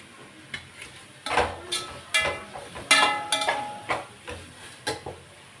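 Tomato and ginger garlic paste sautéing in a pan for chicken gravy, with a spoon scraping and stirring in irregular strokes over a soft sizzle, close and moderately loud with no talking.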